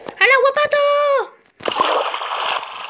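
Splash into water in the Minecraft video game, a broad noisy burst of water sloshing that follows a brief gap after a voice speaking, with clicky game sounds near the start.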